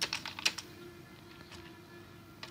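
Keys on a computer keyboard clatter in a quick cluster of close taps, fall quiet for a moment, then give a few more scattered presses, while Python code is entered during a programming lesson.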